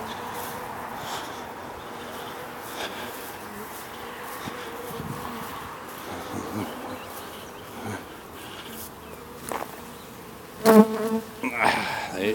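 Honey bees swarm and buzz steadily around a hive as it is carried to a new spot during working hours, a dense continuous drone with a few louder close passes and knocks near the end.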